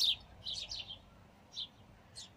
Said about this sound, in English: I can see the sparrows